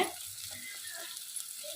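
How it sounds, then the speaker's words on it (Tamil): A soft, steady sizzle of shallots sautéing in a pan for a chicken dish, with faint scraping from stirring, no voices. "சின்ன வெங்காயம் வதங்க தான் டேஸ்ட்டு. நல்லா வதக்கி விடுங்க."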